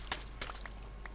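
Mud blocks being mined in a blocky building game, giving a few soft, dull thuds spaced irregularly over a quiet background.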